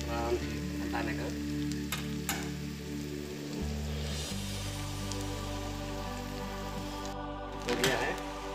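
Boiled eggs coated in masala fry over a low flame in a pan, giving a soft, steady sizzle with a few louder crackles and stirring sounds near the end, close by.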